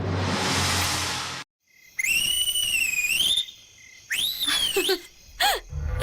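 A person whistles in bright, sliding tones, several short phrases with pauses between them, close and fairly loud after a brief burst of noise.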